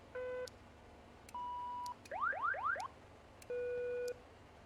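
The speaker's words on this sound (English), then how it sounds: "Check these alarms." Cockpit warning alarms in a King Air 350 flight simulator being tested: a sequence of steady electronic tones and a rapid falling chirp pattern, each sounding alone in quiet cabin background.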